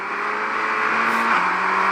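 A Formula 1 car in the F1 22 video game racing at Spa in the Belgian Grand Prix, a continuous high engine whine that holds steady and then drops in pitch as it shifts, with no talking.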